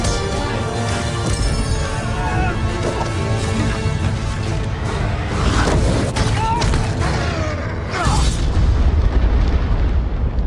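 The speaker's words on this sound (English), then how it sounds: "Was that an earthquake? That, my lad, was a dragon." A dragon's deep rumbling in The Hobbit: The Desolation of Smaug, sustained heavy booming like an earthquake with crashing surges, loud and dense throughout, mixed with film music and effects.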